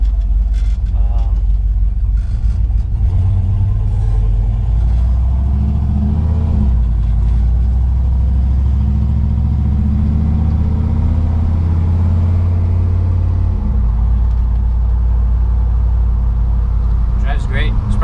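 A car fitted with a Holley Terminator X fuel injection system cruises with a steady, close engine rumble that swells as the throttle is eased on, while a person talks over it.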